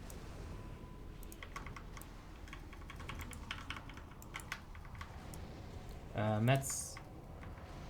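Hard, rapid typing on a computer keyboard during a World of Warcraft raid session, with dense clattering keystrokes running throughout at close range and a brief burst of other sound near the end.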